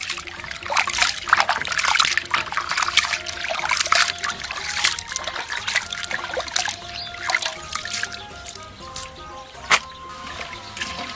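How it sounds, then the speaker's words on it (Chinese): Raw ox liver being rinsed of blood in a bowl of water by hand, with splashing, sloshing and trickling that rise and fall irregularly, close and fairly loud. "把牛肝的血水洗一洗"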